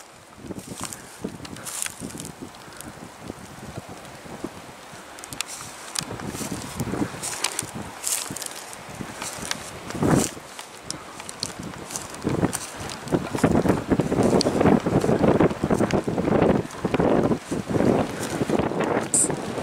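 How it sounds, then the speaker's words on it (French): Sudden heavy rain lashes down in gusting wind in snowy outdoor country, a dense roaring wash with buffeting wind noise on the microphone, growing louder toward the end. "C'est vraiment le déluge. D'un seul coup, ça s'est levé."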